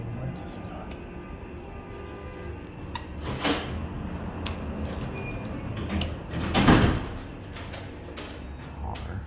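The sliding door of a Dover hydraulic elevator with Adams Traditional fixtures at 2 Lincoln Ave, Rockville, rolls along its track with a low rumble that swells midway, while people talk nearby.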